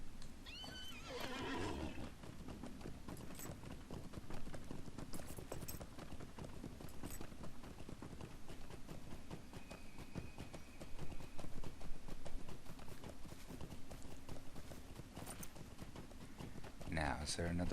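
A horse neighs and whinnies while hooves clip-clop steadily in The Lord of the Rings Online, the hoofbeats continuing under game ambience and a voice talking.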